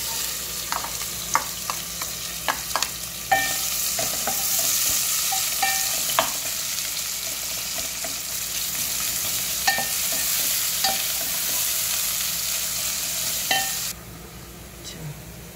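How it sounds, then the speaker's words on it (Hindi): Onions fry in about three spoons of pure ghee in a pan, a continuous close sizzle with scattered clicks and scrapes of stirring throughout, dropping quieter near the end. "सबसे पहले हम प्याज फ्राई करेंगे इसके अंदर"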